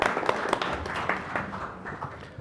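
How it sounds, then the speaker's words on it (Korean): Audience applause welcoming a presenter at a Korean policy debate forum: a short spell of quick, scattered hand claps, fairly faint and fading toward the end. "박수로 맞이해 주시기 부탁드리겠습니다."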